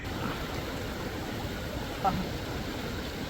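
Cold water rushes steadily along a stream on the mountain trail to Hemkund Sahib near Ghangria, a continuous broadband wash heard close up with no pauses.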